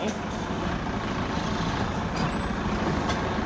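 A truck's air park brake is applied, producing a steady loud hissing rush over a low engine rumble, with a brief thin high whistle near the end.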